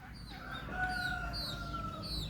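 Backyard chickens cluck while a rooster crows in long drawn calls, moderately near, over a low steady outdoor background.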